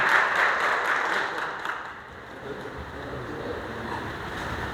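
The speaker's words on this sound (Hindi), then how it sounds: "इनके लिए जोरदार तालियां" Audience applause for a prize winner at a Safety Day program: steady, dense crowd clapping that dips slightly midway and then continues at a moderate, even level.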